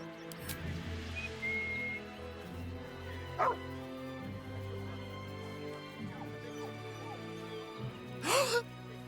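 Scratch, the dog in the video game Baldur's Gate 3, gives two short, sharp barks, one early and one near the end, over a quiet tonal game background.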